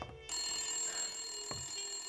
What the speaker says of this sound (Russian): Опять кто-то звонит